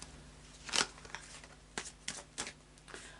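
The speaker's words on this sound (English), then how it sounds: "final shuffle of the Fairy Oracle cards by Brian Froud" Someone shuffles Faery Oracle cards by Brian Froud with a few quick riffles and soft flicks of the card stock. One sharp burst comes early, followed by lighter, scattered shuffling sounds close by.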